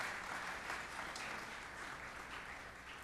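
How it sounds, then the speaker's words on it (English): Applause for scholarship recipients at a community college student awards ceremony, an even, moderate round of clapping from a seated audience, steady throughout and somewhat distant. "So give them a round of applause,"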